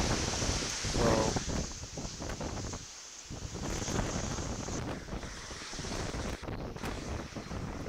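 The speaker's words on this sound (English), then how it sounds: "yeah, you can really hear that wind now." Strong Hurricane Beryl wind roars and buffets a microphone at the ocean, a loud continuous rush with gusty surges and brief lulls, no voices heard.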